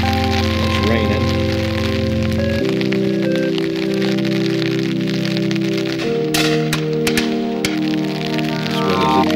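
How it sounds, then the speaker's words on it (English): Steady rain falls during a partridge and pheasant shoot, a continuous hiss and patter with a low droning hum and some voices underneath. "It's raining."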